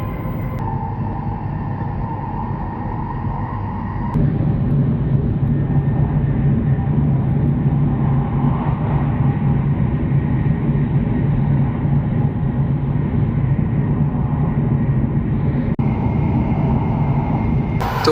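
Steady low rumble and hiss inside a Japanese Shinkansen train leaving Tokyo, a continuous loud cabin drone that swells slightly after a few seconds and holds, no talking.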